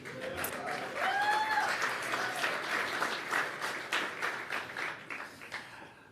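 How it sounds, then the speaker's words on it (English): An audience at a Greek Independence Day reception applauds, a sustained burst of clapping from a roomful of people that holds steady for several seconds then gradually thins out, with a few cheers near the start. "Why don't you give yourselves a round of applause?"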